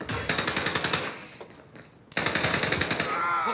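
Rapid automatic gunfire in an online shooter game, two bursts of fast, evenly spaced shots separated by a short lull, loud and close.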